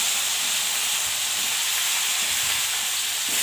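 Steady close hiss of stuffed brinjal and ridge gourd frying in oil, a continuous even sizzle with no talking.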